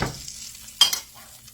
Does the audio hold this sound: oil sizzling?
yes